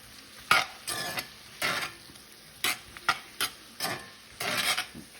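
Cabbage and onions sauté in a pan with a quiet background sizzle, broken by a series of close scraping stirring strokes in uneven bursts, about ten in quick succession.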